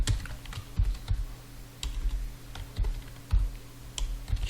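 Computer keyboard typing a prompt into a chatbot: steady bursts of key taps with a few heavier thumps, close-miked and fairly loud over a low electrical hum, no talk.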